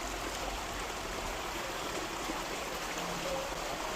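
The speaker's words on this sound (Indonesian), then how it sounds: "Sumber air kita lihat sumber airnya ya." Steady rushing flow of water at the source feeding a concrete catfish pond, a continuous even wash heard close with no pauses.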